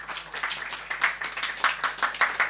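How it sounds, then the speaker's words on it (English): Audience applause at a public talk on French politics, a steady patter of many hands clapping with uneven bursts, moderately distant and alone without speech. "And please give her a round of applause as well."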